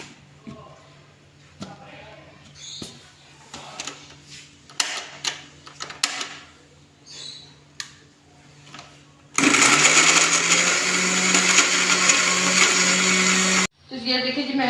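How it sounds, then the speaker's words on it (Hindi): Blender grinding ginger and garlic with a little water into paste in a home kitchen: soft clinks and handling first, then a loud steady whirring roar for about four seconds that cuts off and briefly starts again. "लहसुन को पीस लेते हैं इसमें।"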